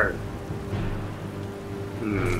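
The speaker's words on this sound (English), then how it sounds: "And now it rains." Rain in the Skyrim game falls as a soft continuous patter under a low ambient drone, with a faint game tone briefly rising near the start and end.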